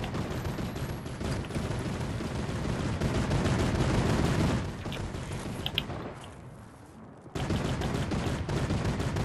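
Automated turret in a video game opening fire in sustained rapid bursts, loud and dense, easing off briefly before resuming at full volume.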